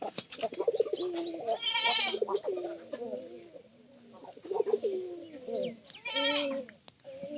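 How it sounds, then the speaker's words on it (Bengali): A male pigeon coos nearby in repeated throaty, bubbling calls, the phrases rising and falling across several seconds with brief pauses between them. "পায়রা ডাক হবো সবসময় ক্লিয়ার, যেমনটা এরকম এটা"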